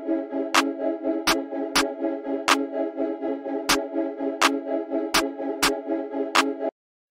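A trap beat programmed in FL Studio, with a sharp second snare or percussion hit landing in an uneven syncopated pattern over a steady sustained tonal loop. The hits are crisp and prominent, and there is no talking.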